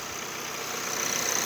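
A car engine idles steadily with a throaty exhaust note, a continuous near rumble that swells slightly toward the end, heard alone without talk.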